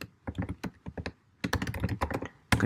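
Keys clatter on a computer keyboard as a Docker command is typed at a terminal: two quick bursts of clicky keystrokes separated by a short pause, close and fairly quiet, with no talking.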